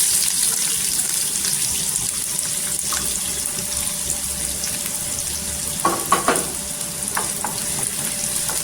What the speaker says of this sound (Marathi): कांदा छान असा गोल्डन कलर झाला पाहिजे। छान असा तेलावर परतून घ्यायचं।